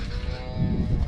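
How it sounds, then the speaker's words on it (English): Calves mooing in the background on a farm, a short low bellow that swells and fades under a steady mechanical drone. "You can hear the calves in the background there. They shouldn't be roaring."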